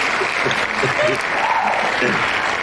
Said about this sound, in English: Let's give a big round of applause for Mark Rolston.